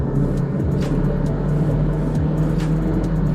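Inside a Toyota Corolla speeding up on the highway from 70 to 80, a loud steady engine drone and road rumble fill the cabin without any talking.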